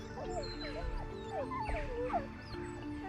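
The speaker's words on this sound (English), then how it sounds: "the howl of the wolf is more than just a call to the pack" Wolves in the wilderness howl and yip together, with wavering rising and falling cries overlapping at a distance, faint and with no talk.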